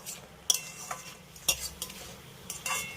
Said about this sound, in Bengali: আলুগুলোকে আমি মশলার সঙ্গে আবারও দুই মিনিটের মতো একটু এইভাবে কষিয়ে নেব